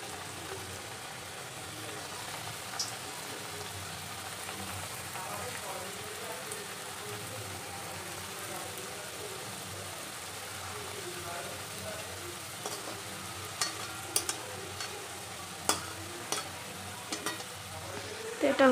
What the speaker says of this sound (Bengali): হালকা ধিমি আঁচে লাল করে ভাজতে হবে